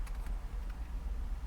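Computer keyboard typing, a short burst of several quick, fairly close keystrokes over a low background hum.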